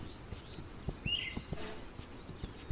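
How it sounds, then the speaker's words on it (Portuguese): Horses walking in the video game This Land Is My Land, their hooves giving a steady, soft clip-clop of evenly spaced thumps against a low background hum, with no talking. "Caraca, encheu de cavalo aqui o negócio."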